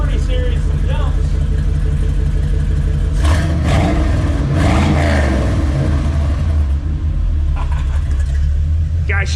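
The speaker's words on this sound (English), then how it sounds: "first start up with the old mufflers on her" A car engine with old mufflers fitted rumbles loudly and revs up, a deep throaty idle rising then settling, with people talking over it nearby.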